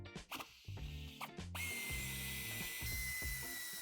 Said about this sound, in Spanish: Para ello tendremos que quitar los dos tornillos